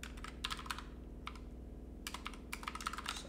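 Light clicking of a computer keyboard while code is entered, a few quick bursts of keystrokes separated by short pauses over a steady low hum.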